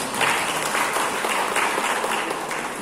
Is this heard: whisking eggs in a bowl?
no